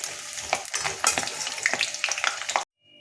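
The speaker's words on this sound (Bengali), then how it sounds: "আমি আলুগুলো দিয়ে দিয়েছি কড়ার মধ্যে, এরপর আমি এগুলোকে একটু ভাজবো" Potato pieces frying in ghee in a kadai crackle and sizzle busily with stirring scrapes and clatters, close and lively, before cutting to near silence at the end.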